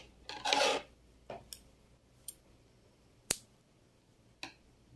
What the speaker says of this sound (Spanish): Voy a cortar este hilo.